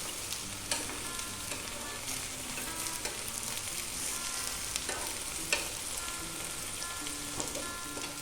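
Fritters sizzle and crackle steadily in a hot pan while being turned over to brown the second side, with a few scraping clicks from the flipping; no voices.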